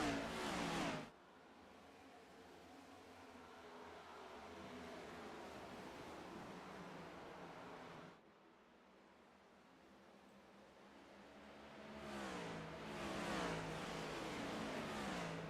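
Onboard engine roar from a Next Gen stock car in iRacing at Nashville Superspeedway, a steady, loud drone that dips briefly, then swells again as the car accelerates.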